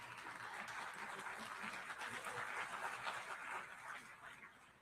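Audience applause at a UN high-level political forum, a steady wash of many hands clapping from a large hall, sustained and moderately loud before tapering at the end.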